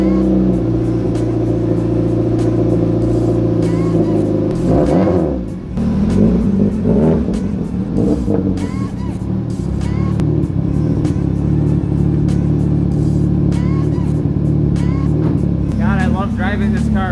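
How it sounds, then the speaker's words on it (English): A turbocharged 1998 Saturn SL2 cold-starts and idles in a garage on a winter day, a loud, close, rumbling engine with a few revs, while someone talks over it. "Driving this car, even if it's 2 feet, it just sounds so good with the turbo now."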